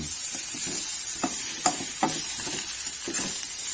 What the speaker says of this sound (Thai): เขาก็คั่วไปพอๆหอมๆนะครับ